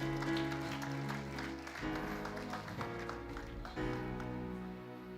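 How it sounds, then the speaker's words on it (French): A church congregation claps to acclaim the Lord, a soft, steady patter of applause mixed with sustained music tones, fairly quiet and without clear speech. "Est-ce que tu peux acclamer les Seigneurs?"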